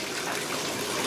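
Water gushes steadily through a copper tube out of a Halloween skeleton prop's mouth and sprays across its teeth. The rushing splash is close and continuous.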